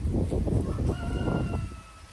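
A backyard chicken clucks and crows close by, near a raised garden and compost pile, with a drawn-out, tonal crow rising over steady clucking and low background rumble.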